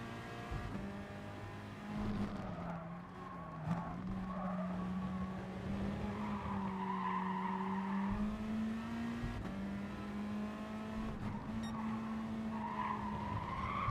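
A race car in GT Sport brakes hard and slides off, tyres squealing in a long skid over a steady engine drone, close and sustained with no talk.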